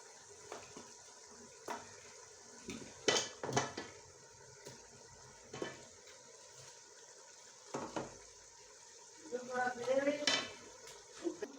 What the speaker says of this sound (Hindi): अब हम इसमें पाए शामिल करेंगे। ये दोनों चीज़ें अच्छे से भून लें।